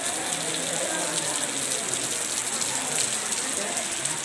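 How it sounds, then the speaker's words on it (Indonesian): Heavy rain pouring outside a multipurpose hall in Simeulue, Indonesia, a dense steady hiss of downpour with faint voices murmuring under it. "Hujan lebat. Suasananya hujan ini."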